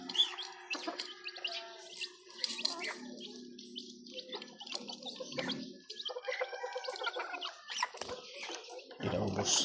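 DeKalb chickens cluck and squawk in a busy, overlapping chorus with scattered clatter, fairly close throughout.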